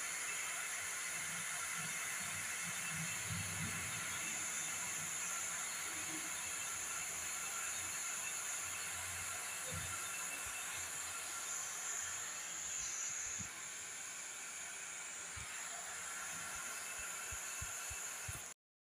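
Multigrain flour kozhukattai steam in a pot over boiling water, giving a steady, even hiss that runs throughout with faint low bumps and knocks beneath it.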